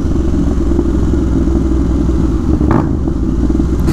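A tractor towing another tractor passes close by on a downhill road, giving a steady loud mid-pitched engine drone with rattling clatter throughout, a brief sharper knock near the end.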